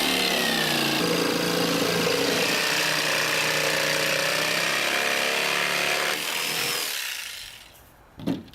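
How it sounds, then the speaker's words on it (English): Raised plywood is sawn along a curved line to form a skateboard halfpipe transition. A loud, steady power-saw rasp runs for about seven seconds, then the blade winds down and stops with a final knock. "With the plywood raised from the ground, cut out the transition."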